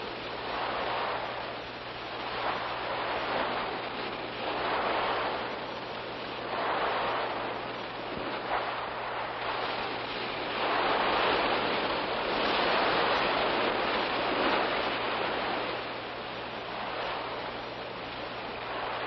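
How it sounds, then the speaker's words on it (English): Ocean surf washing onto a beach, continuous hiss with slow swells rising and falling every few seconds, no voices. "Let's find out what effect waves like these have on a beach."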